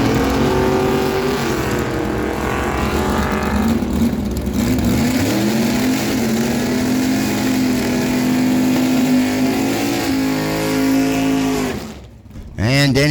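A Super Gas class drag racing car on a first-round elimination run at Miramichi Dragway, its engine roaring loud and steady and rising in pitch under a track announcer's commentary, then cutting off abruptly near the end.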